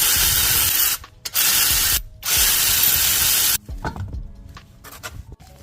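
A ratchet works on a Chrysler 300 while a tire is removed for a rear shock replacement, giving loud bursts of dense mechanical whirring broken by short pauses, then quieter clicks and handling noises.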